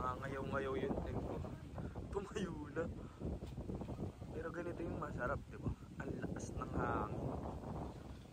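Strong wind at a campsite rumbles against the microphone throughout, steady and close, while someone talks over it.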